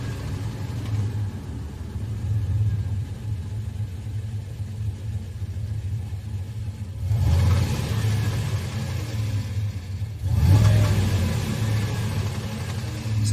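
A turbocharged 5.3 V8 in a Chevelle rumbles steadily, then surges louder twice as it revs, with a broad roar swelling and settling back to a rough idle, carrying an unidentified noise.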